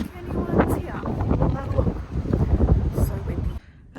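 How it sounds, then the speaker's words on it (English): Strong gusty wind outside a pottery studio buffets the microphone with a loud, rumbling roar that surges and eases, then drops away suddenly at the end. A voice is partly audible beneath it. "So windy."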